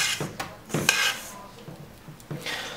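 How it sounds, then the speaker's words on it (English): A spoon scrapes and knocks around a bowl of gluten-free oatmeal chocolate chip cookie dough, a few irregular rubbing strokes and clinks, close and moderately loud. "we'll give it one final stir."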